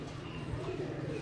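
A pigeon coos softly in a short, low, murmuring burst, faint and close, with no other sounds around it.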